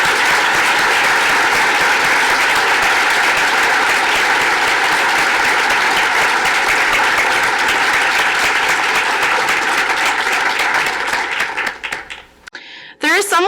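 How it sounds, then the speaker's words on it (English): A large audience at a St. Francis Charter Day ceremony applauds loudly and steadily for a retiring honoree, the dense clapping sustained for about twelve seconds before thinning out and stopping. "he deserves a round of applause."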